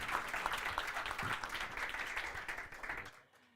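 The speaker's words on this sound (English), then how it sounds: "let's start by welcoming our wonderful panel with some applause" Audience applause greeting a panel at a sustainable ocean management side event, a steady wash of clapping that holds for about three seconds and then stops abruptly into near silence.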